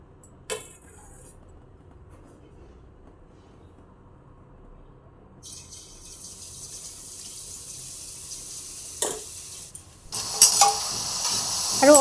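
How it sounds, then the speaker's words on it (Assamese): Boondi batter drops into hot oil for boondi laddu. After a quiet stretch a soft hiss builds, then grows into loud bubbling sizzles with a few sharp clinks near the end. "এতিয়া তেল গৰম হৈ আহিছে এতিয়া মই বুন্দিয়াখিনি বনাই লম"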